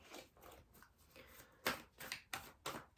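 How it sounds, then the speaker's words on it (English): An oracle card deck is shuffled in a quiet room: soft riffling at first, then four sharper, louder bursts in quick succession. "we have the last oracle deck I will be shuffling from for you guys"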